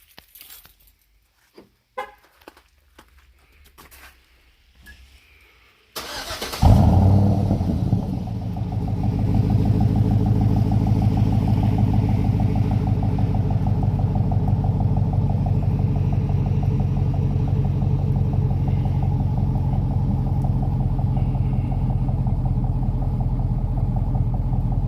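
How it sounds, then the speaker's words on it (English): A 2010 Chevy Silverado with a 5.3 LC9 V8, Magnaflow 14419 muffler and third-cat delete, starts up after a few faint clicks and jangles, then settles into a loud, steady, deep rumbling idle close by. "I'm gonna do a little sound clip of the startup"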